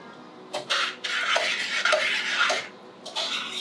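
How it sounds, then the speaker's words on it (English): Meat mix being stirred in a pan, a few scraping, clattering utensil strokes against the metal in short bursts, close and alone. "Stir it. Get that meat mix up."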